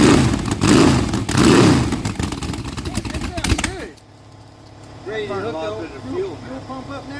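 An engine on an engine stand runs loud and close, roaring and revving through the first four seconds, then drops to a lower, rougher idle while people talk over it.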